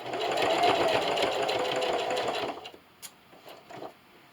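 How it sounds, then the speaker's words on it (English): A sewing machine stitches a quilted canning mat up to a corner, its steady close whir running for about two and a half seconds before stopping, followed by a few faint handling clicks. "I'm going to sew right up to the corner."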